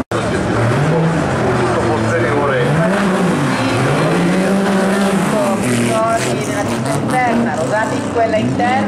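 A historic rally car at the 2017 Bologna Motor Show, in qualifying for the Italian historic rally trophy, revs hard with its engine pitch rising and falling and tires squealing, while a commentator talks over it.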